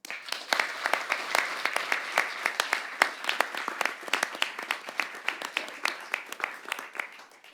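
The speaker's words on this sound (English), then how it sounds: "a round of applause for our judges" Steady applause from a crowd at a debate final, with many hands clapping briskly and continuously, fairly close, tapering slightly toward the end.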